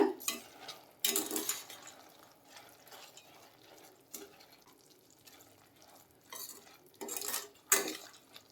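Sweet boondi being stirred through sugar syrup in a pot, with intermittent spoon scrapes and clinks separated by quieter stretches of soft bubbling and stirring.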